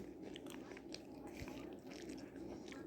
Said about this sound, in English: So I'm just going to give it a little bite on camera.